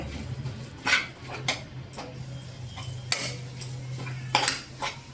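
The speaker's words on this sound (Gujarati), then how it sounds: "ચમચા વડે સતત હલાવી રાખવાનું, જેથી કરીને તળિયે બેસી ન જાય." A ladle stirs masala in a metal pan for lilva kachori filling, giving irregular scraping clinks and knocks close by, with a steady low hum underneath and no talking.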